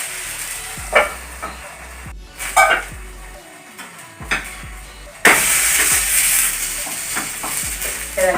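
Rice oothappam fries in coconut oil in a covered pan, with a steady sizzle and occasional clinks and knocks of utensils or the lid.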